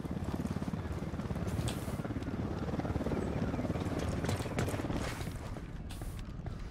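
A helicopter approaches in a cartel-themed shooter video game. A rapid, rhythmic rotor chop thumps steadily and loudly throughout, with brief hissing bursts layered over it.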